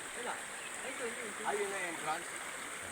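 Flowing stream water near a waterfall in the Bulacan outdoors, a steady soft rushing wash throughout, with people talking over it.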